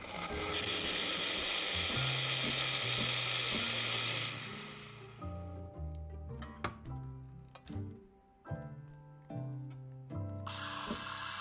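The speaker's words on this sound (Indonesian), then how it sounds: "Sekarang tinggal steam susunya ya." Espresso machine steam wand steaming milk for a caramel latte: a loud rushing hiss that cuts off, followed by clinks and tonal music, then a brief burst of hiss returns at the end.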